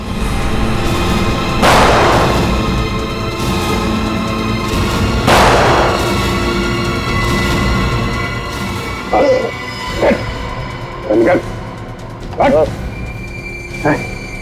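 Two sharp, booming gunshots ring out a few seconds apart in a crime-drama scene, over a dense background bed, followed by short barking, yelping sounds.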